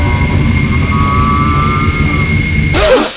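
A jet aircraft engine roars with a steady, loud whine and a low rumble, swelling into a broad rush at the end.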